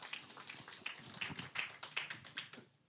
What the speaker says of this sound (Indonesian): Tepuk tangan untuk Abah Dahlan.